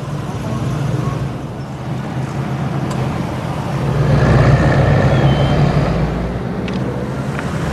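A four-wheel drive vehicle in low range grinds over a huge speed bump, its engine a loud steady rumble that swells in the middle as it climbs, with no voices.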